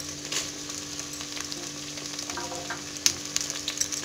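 Garlic sizzles in sesame oil in a clay pot, a steady close frying hiss with occasional sharper pops and crackles toward the end, no voices over it.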